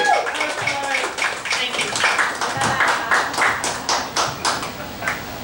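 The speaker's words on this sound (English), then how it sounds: "Jennergy, give her a round of applause." Audience at a church meeting gives a round of applause, rhythmic claps pulsing steadily and fairly close, mixed with voices talking over the clapping.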